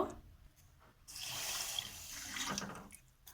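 Water is poured into a bowl of sugar to make syrup for a lobongo lotika sweet, a steady splashing stream lasting about two seconds at close range, then it trails off.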